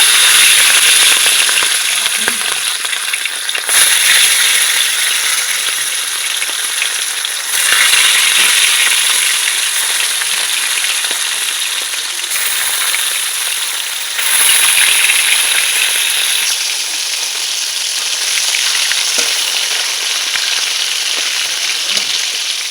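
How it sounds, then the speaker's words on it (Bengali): Hilsa fish pieces frying in hot mustard oil in a kadai, a loud dense crackling sizzle that swells and eases in waves across the whole stretch, close and without talk. "কড়ার মধ্যে দিয়ে দিচ্ছি সর্ষের তেল তেলটাও আমার গরম হয়ে গেছে এবারে আমি মাছগুলো দিয়ে দেবো"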